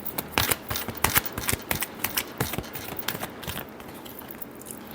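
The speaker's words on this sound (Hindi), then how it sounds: "last shuffle" Tarot-style cards shuffled for a weekly horoscope reading, a dense run of crisp riffling clicks and slaps close up, busiest early and thinning toward the end, with no talk.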